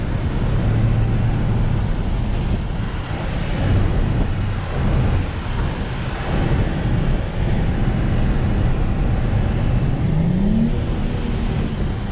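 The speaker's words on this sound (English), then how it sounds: "Y'all hear that engine?" A 2020 Dodge Charger Scat Pack engine runs steadily and loudly throughout, a continuous rumbling drone with slight swells, heard up close from inside with wind noise.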